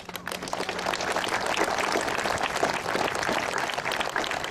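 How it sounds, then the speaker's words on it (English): Outdoor crowd applause for the Lao-Hmong American Coalition color guard at a Memorial Day celebration, continuous steady clapping throughout. "Let's give them a good applause."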